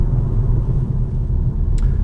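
A car coasting off the throttle in fourth gear as it enters a speed limit area, a steady low engine and road rumble heard from inside the cabin, with a brief faint click near the end.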